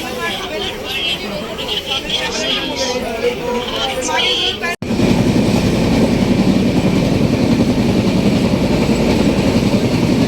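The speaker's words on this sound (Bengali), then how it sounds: "ট্রেন ছেড়ে দিল" Voices chatter over an indoor rumble, then a steady, loud rolling train noise takes over, rumbling continuously as the carriage leaves the station bound for Digha.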